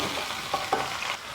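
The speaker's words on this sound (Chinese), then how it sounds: "鱼头一面煎好过后，我们给它翻上一面。" A fish head pan-fries in oil in a small wok, a steady close sizzle broken by two sharp scraping bursts as it is turned over, with no talking.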